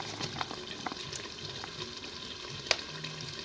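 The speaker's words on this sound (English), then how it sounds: "see how our tomato stew is cooking" A soya bean and tomato stew cooking in a pot, giving off a soft, steady bubbling sizzle with occasional light pops and a stir click, quiet and close with no voices.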